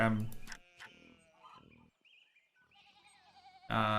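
Sheep in the medieval adventure game Pentiment bleating in short quavering calls, a few distinct bleats close by, interspersed with quiet game sounds and a brief louder burst at the end.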